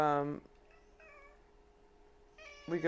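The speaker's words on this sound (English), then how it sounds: "Do you guys hear my cat?" A pet cat gives a short, soft meow alone in a quiet room, set between bursts of nearby talking at the start and end.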